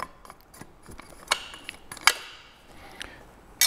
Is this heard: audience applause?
no